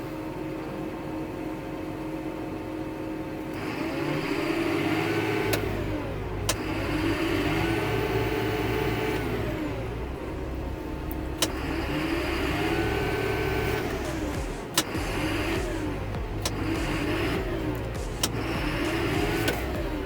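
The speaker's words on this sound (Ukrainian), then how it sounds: "Прикольний звук, дуже прикольний трактор." A John Deere 7930 tractor engine idles and rumbles steadily nearby, with rhythmic swells in its tone and a few sharp clicks over the drone.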